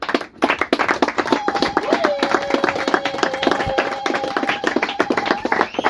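Rhythmic clapping from a church congregation for the pastors, steady and close, with a sustained sung or shouted voice running over the claps.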